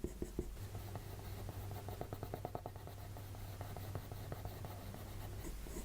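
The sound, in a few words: soft dark pencil shading on paper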